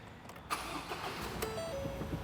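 A 2018 Ford Ranger 2.2 XL manual pickup engine cranks and catches, then settles into a steady smooth idle, heard up close with no talk.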